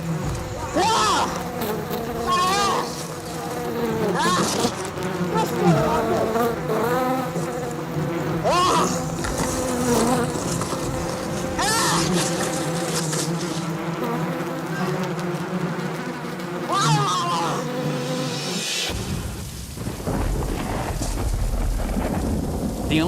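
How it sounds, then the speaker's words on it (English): A swarm of bees buzzes densely around people outdoors while voices shout over the drone, and heavy rain and rumbling thunder take over near the end. "Once these bees sting their target, it releases a pheromone that they can track for up to 2 miles from their hive."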